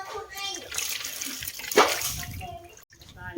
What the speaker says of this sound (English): the boy's gonna bring the water to clean it up